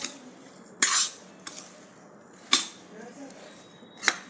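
Turmeric pickle ingredients mixed with a spoon: a few sharp metallic clinks and scrapes of spoon against a bowl, spaced about a second or more apart, close and fairly quiet, with no talking.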